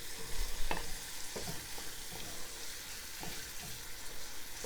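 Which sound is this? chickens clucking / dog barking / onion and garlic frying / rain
onion and garlic frying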